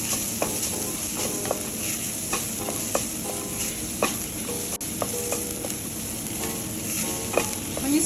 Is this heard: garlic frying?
yes